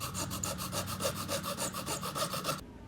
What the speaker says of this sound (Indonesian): Aku harus melubangi multiplex dengan bor dan merapikannya dengan gergaji besi.